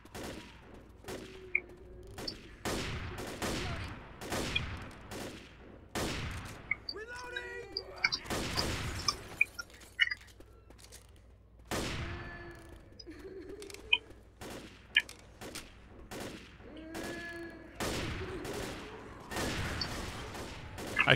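Video game gunfire from Left 4 Dead rings out in repeated sharp bursts and rapid volleys across a long stretch, with players talking over and between the shots.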